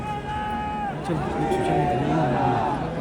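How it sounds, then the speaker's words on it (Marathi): A huge crowd gathers outside a gate after a death, a low, steady murmur of many voices filling the background while a person talks close by. "बाहेर प्रचंड गर्दी आहे खूप गर्दी"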